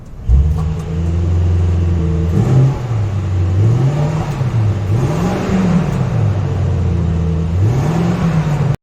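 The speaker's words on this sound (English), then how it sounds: "I hope you heard the sound of the car. It's not very loud." A 2021 Mercedes-Maybach GLS 600 luxury SUV engine idles with a smooth, low rumble, then revs in a few gentle rising and falling surges before cutting off.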